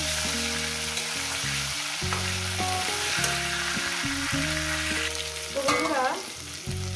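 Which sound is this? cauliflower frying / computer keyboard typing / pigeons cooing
cauliflower frying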